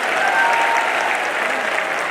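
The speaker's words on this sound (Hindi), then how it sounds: "लाडवा वालों, जोर से ताली को बजाओ।" A crowd at an election rally in Ladwa, Haryana, claps loudly, with dense, sustained applause filling the whole moment at close range.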